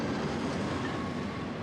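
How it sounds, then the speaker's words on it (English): A Swiss Federal Railways narrow-gauge train rolls along with a steady, dense rumble of wheels and carriage noise. It sounds close, with no voices. "Our fourth train of the day is on the only narrow-gauge line of the Swiss Federal Railways."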